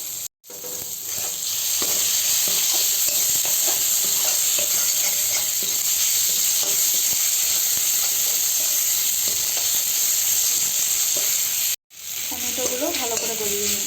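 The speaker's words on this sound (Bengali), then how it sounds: "টমেটোগুলো ভালো করে গলিয়ে নিই।" Tomatoes fry in a spice masala for egg curry, giving a steady, loud sizzle with stirring scrapes throughout, broken by two brief silent gaps.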